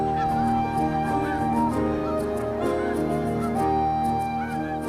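A large flock of geese honks continuously at Bosque del Apache in autumn or winter, many overlapping calls forming a dense, steady chorus with no talk.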